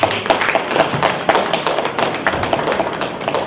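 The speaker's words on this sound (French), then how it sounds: "nous pouvons applaudir ces gestes-là" Scattered claps from a small group at a surprise birthday gathering: irregular, fairly close hand claps over about three seconds, with no talking.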